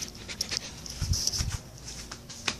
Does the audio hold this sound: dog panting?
yes